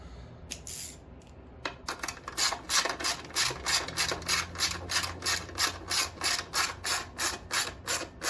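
A ratchet snugs down the bolts on a Predator 9000-watt generator being converted from gas to propane. After a couple of isolated clicks, it settles into a steady, close run of rhythmic ratcheting strokes, with no talking.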